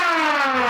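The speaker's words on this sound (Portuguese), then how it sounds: "a sirene vai ligar, como o senhor está ouvindo" Loud, continuous emergency siren sounding in a simulated factory automation scene during an emergency stop, a steady rich wail with no talk over it.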